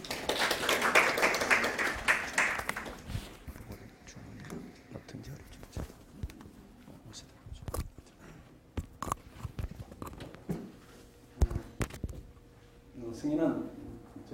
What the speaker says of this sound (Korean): 최승희 학생 박수 한번 쳐주세요.